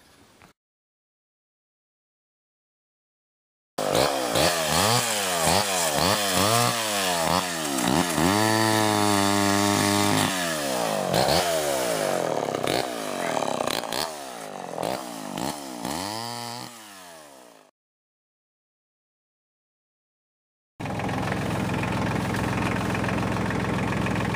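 A small chainsaw cuts through wood while breaking down the top of a felled tree, its engine revving hard and loud for several seconds with shifting pitch, then cutting off into silence before another stretch of running resumes.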